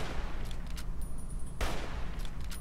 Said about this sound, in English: this 308 rifle, probably my favorite gun in the game so far